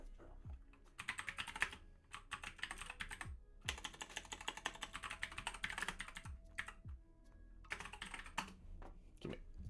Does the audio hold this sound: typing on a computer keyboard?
yes